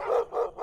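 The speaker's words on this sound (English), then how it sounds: "just barking, going nuts" Several dogs barking frantically in three loud, rapid bursts, near and without talk, with short pauses between the volleys, as heard around a property in an animal cruelty case.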